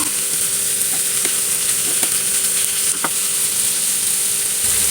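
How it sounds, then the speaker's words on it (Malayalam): Onions sautéed with salt in a pan for a Kerala mackerel roast, giving a steady close sizzle and hiss with a few light clicks of a spoon stirring against the pan. "കുറച്ച് ഉപ്പ് നമുക്കിതിലിട്ട് കൊടുക്കാം ഇനി നല്ലോണം ഇതൊന്ന് വഴറ്റിയെടുക്കാം"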